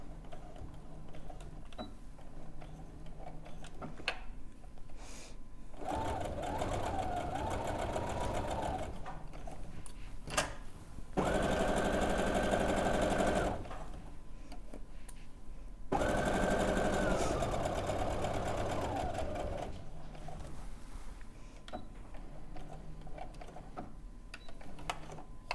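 A sewing machine runs in several long, steady bursts with short pauses between, stitching round a garment from the back toward the shoulder seam while making a blouse and skirt; the whirring motor is close and fairly loud.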